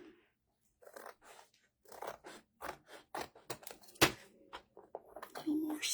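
Scissors snip away the paper overhang on a handmade folio, a series of short, crisp cuts in an uneven rhythm, close and fairly quiet, with brief pauses between snips.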